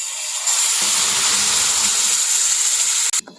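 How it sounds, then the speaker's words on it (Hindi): Mixed fruit paste for homemade jam sizzles and hisses loudly in a hot frying pan, a steady close roar of steam that cuts off abruptly near the end. "तो अभी हम इसको फ्राई पैन में डाल देते हैं सारे को"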